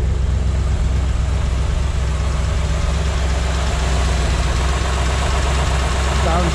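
A 1965 Chevrolet Corvette convertible's V8 idles with a steady, deep dual-exhaust rumble, loud and close, running evenly without pause.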